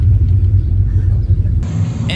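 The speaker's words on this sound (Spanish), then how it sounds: "Esos son los discos, ¿no? Lo que suena." Toyota Celica driving with worn brake pads, a loud low rumbling road and disc noise throughout, ending in a brief higher scraping burst.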